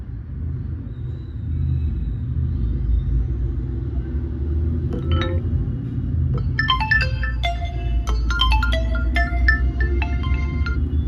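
Ringtone melody played through the speaker of an Oppo K14x phone during a sound test, a series of bright chiming notes starting partway in over a loud, continuous low rumble.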